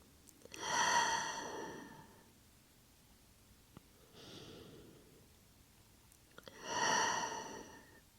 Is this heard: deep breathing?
yes